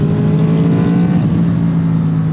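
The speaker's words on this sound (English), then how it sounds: "You heard that transition in the exhaust note?" A Honda VFR motorcycle engine revs hard and close, its steady loud exhaust note shifting in tone partway through as the VTEC engages.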